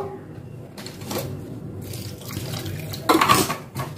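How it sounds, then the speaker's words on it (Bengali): Water splashes into a cooking pan in a short burst, pouring fairly close with a louder gush toward the end, while a vegan daal gosht cooks. "এর মধ্যে সামান্য আমি একটু জল দিয়ে দেবো"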